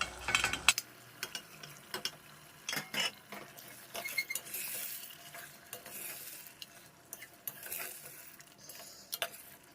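Prawns dropped into hot oil in a pan for prawn biryani, with a sudden burst of sizzling followed by steady frying crackle and intermittent stirring clatter, close and fairly loud, no talking.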